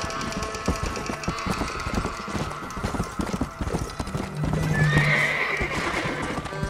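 Horse in the Red Dead Redemption: Undead Nightmare video game, rapid clip-clop of hooves at a gallop with a loud whinny partway through, game audio alone without talk.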